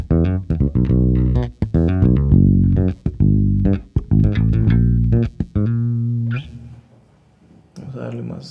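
Jazz bass played through its rear bridge pickup, giving a punchy, slightly thin tone; a run of plucked notes sounds up close and loud, then fades into a brief pause before a few more notes.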